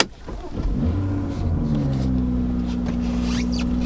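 A tuned BMW X3 M40i engine cranks and catches, then settles into a steady idle that hums on without stopping.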